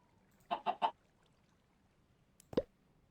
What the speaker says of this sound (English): Here, a chicken.